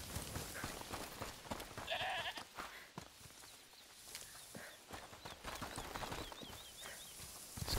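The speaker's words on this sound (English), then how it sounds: "There's gotta be a way to get that bloody goat out." A goat in a video game bleats in a short wavering call near the start, set against busy game ambience with clopping steps and faint chirping tones later on.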